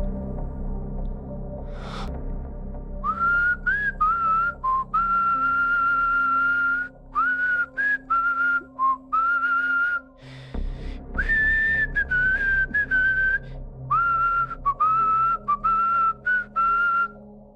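A lone person whistles a melodic tune in clear, sustained phrases broken by short pauses, close and prominent over a faint low background with no speech.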